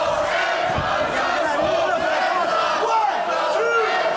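A loud wrestling arena crowd roars and cheers steadily throughout a professional wrestling match, a dense continuous wall of voices with shouts rising above it and no clear break.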